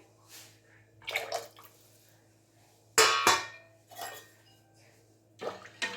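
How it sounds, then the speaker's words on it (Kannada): Water splashes into thinned curd for a buttermilk curry in a home kitchen, in several short, close pours separated by brief pauses, with no talking. "ಇನ್ನೊಂದು ಸ್ವಲ್ಪ ನೀರು ಹಾಕ್ತಿದ್ದೀನಿ"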